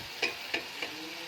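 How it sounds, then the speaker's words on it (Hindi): Masala of tomatoes, ginger-garlic paste and spices fries in a pan with a soft steady sizzle, while a spoon scrapes through it three times in an even rhythm, close and fairly quiet. "ये देखिए हम टमाटर डालेंगे भी और इसकी भुनाई करेंगे"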